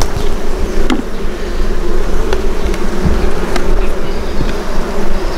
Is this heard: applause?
no